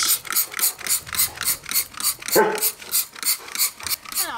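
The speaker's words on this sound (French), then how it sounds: "on nous dit juste de pulvériser" Rapid, rhythmic pumps of a trigger spray bottle spraying cleaner, about a dozen sharp hissing bursts in steady succession, close by, with a faint whimper partway through.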